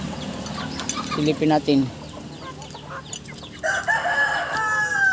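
Chickens cluck and crow-like calls rise among farm fowl at afternoon feeding, followed by a run of high, thin peeping from chicks nearby; a person speaks briefly over the birds.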